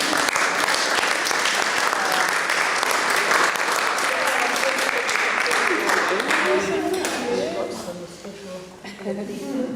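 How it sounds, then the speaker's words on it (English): Audience applause fills the room at the end of a talk, a dense sustained clapping that thins out toward the end as a voice begins speaking over it. "And once more, a round of applause."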